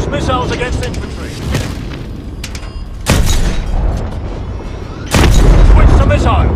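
Missiles launched at infantry in the shooter game Call of Duty: Advanced Warfare, with heavy booming blasts at about three and five seconds over a dense rumbling battle background, loud and close.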